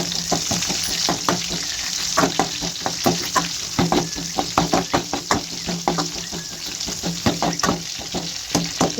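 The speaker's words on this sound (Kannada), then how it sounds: "ಸ್ವಲ್ಪ ಈ ಥರ ಫ್ರೈ ಆದಮೇಲೆ ಹಸಿಮೆಣ್ಸಿನ್ಕಾಯಿ ಹಾಕ್ಕೊಳ್ತಿದ್ದೀನಿ." Green chillies fry in hot oil for chitranna (lemon rice), giving a steady close sizzle broken by a run of sharp, irregular knocks and scrapes as a spoon stirs the pan, with no talking.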